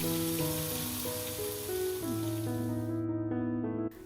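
Chopped ivy gourd sizzles in oil with mustard seeds and curry leaves, a close, even crackling hiss that holds steady and then drops off sharply near the end.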